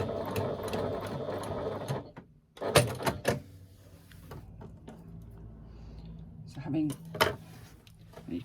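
A sewing machine stitches down a pleat in fabric, its rapid mechanical whirr running for about two seconds before stopping, followed by brief handling clicks and knocks, while a person talks nearby.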